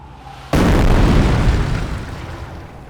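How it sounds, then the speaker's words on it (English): An incendiary mortar bombardment strikes in Company of Heroes, one abrupt heavy blast erupting into a long, roaring rumble that slowly fades. "Bombardment underway."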